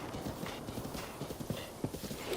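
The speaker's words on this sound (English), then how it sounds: "I will name you Blue Balls, my beautiful horse." Horse hooves clip-clop at a steady trot in Zelda: Breath of the Wild, close and fairly quiet, with a rhythmic beat of soft thuds.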